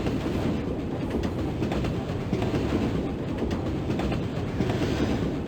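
A train rolls steadily along in the video game The Lost Files of Sherlock Holmes, a dense continuous rumble with faint rhythmic clatter, loud and even throughout.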